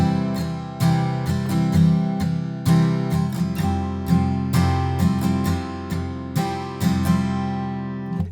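Acoustic guitar strums the intro chords of a song without a capo, steady repeated strokes ringing out close and clear with no voice.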